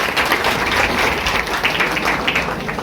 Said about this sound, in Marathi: सर्वांनी टाळ्या वाजवून एक मनापासून कौतुक करावं अशी विनंती करतो